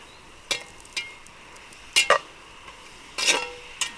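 A spoon scrapes and clinks against a pot of smoked sausage over an open fire, in a few brief, separate stirring strokes with quiet gaps between them and no talking.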